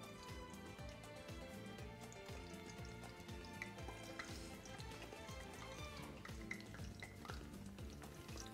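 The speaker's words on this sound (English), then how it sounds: "I'm putting them in boiling oil to fry them." Aubergine pieces that were salted, soaked and strained fry in boiling oil, giving a steady, dense sizzle with scattered crackles and pops that carry on without a break and without any talk.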